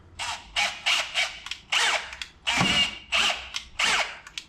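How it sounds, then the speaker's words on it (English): A drill with a 25/64 bit bores to enlarge a hole in a 1989 R3500 engine, running in eight short, grinding bursts separated by brief pauses, close and fairly loud. "we're going to use a 25/64 drill bit to make this hole bigger"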